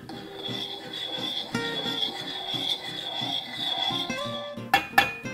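Green mint tea, a Chinese gunpowder green tea blended with mint, is stirred into oil in a pan, giving a steady close scraping and rasping with a faint sizzle beneath. A few sharper knocks come at the end.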